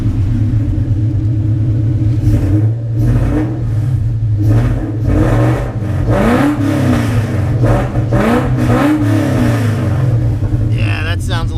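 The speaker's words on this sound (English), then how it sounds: "Maybe we can rev it up a little bit." A Coyote-swapped Foxbody Mustang V8 idles with a deep, loud rumble, then revs up and falls back several times in quick blips.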